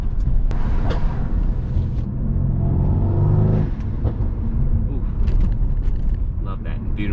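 A Mercedes C63 fitted with VRP intakes accelerates on a public street, its engine rising to a loud, rough induction roar that builds through the middle and then eases, with a raspy rumble throughout.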